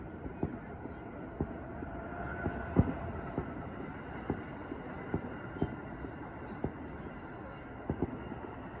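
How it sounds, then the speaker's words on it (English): Amtrak passenger train rolling past, heard as a steady low rumble with rhythmic clacks of wheels over rail joints spaced through the pass, moderately distant, with a faint voice. "I think that's the train right there."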